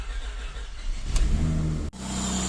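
Car engine with a minor exhaust leak starting and revving up at close range, a rising roar that holds steady, then a sudden brief dip before it settles into a rough idle.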